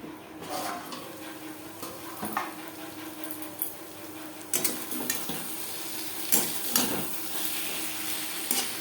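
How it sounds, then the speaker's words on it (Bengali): Eggplant cooking in fish oil on a low flame in a Bengali fish-oil chorchori, a soft steady sizzle broken by intermittent scrapes and clinks of stirring. "লো ফ্লেমে ঢাকা দিয়ে রান্না করব যতক্ষণ পর্যন্ত বেগুন সেদ্ধ হয়"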